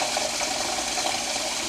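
Tap water runs steadily into a pasta pot in a home kitchen, a continuous close rushing stream with no talk over it.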